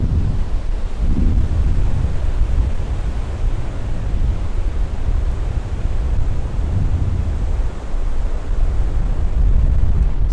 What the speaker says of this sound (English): Okay, listen to the Pacific Ocean.